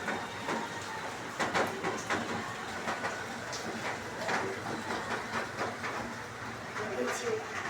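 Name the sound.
heavy rain falling outside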